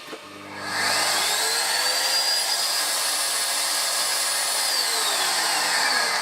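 A Bosch GS40 bagless vacuum cleaner's motor spins up and then runs steadily after its clogged filter was cleaned, a loud close whine with a high tonal edge and no talking.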